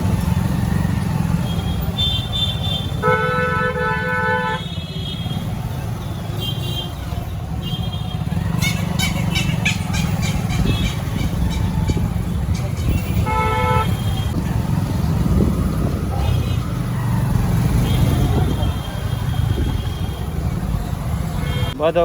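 Heavy road traffic jammed in a crowded Silchar city street on a hot day, with a steady engine rumble and several car horns honking in short and longer blasts, some near and loud, throughout.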